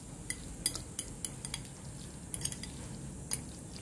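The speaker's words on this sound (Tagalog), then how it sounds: "Hindi natin kailangan haluin ng matagal." Guacamole mixed with a utensil in a bowl, light scattered clinks and scrapes at low volume over a faint background hiss, no talking.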